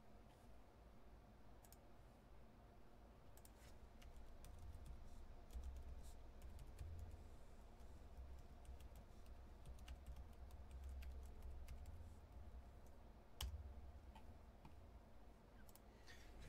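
Light, rapid clicks of a computer keyboard tap along steadily while card entries are typed one at a time, faint and close over a low room hum, with one sharper click near the end and no talking.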